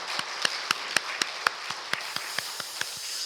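Church congregation clapping in thanks at the first service in a newly completed sanctuary: about a dozen crisp, evenly spaced claps in a steady rhythm, fairly close and alone, with no voices.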